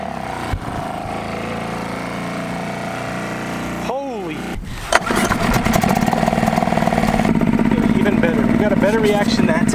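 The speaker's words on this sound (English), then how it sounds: "Maybe the motor just needed to be warmed up." An old motor coughs, catches on the choke and starts, then settles into a steady, loud running drone as it warms up, close to the listener.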